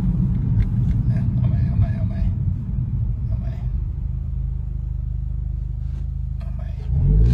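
A Honda Civic FB with an automatic gearbox and an added turbo launches hard, its deep engine roar rumbling loud and close as it pulls away, then easing briefly before building again, with people talking over it.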